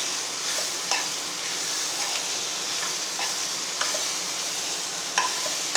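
Tomato-onion paste sizzles steadily in a hot pan for a soya chunk curry, a continuous frying hiss broken by a few soft stirring clicks, fairly close and alone without talk.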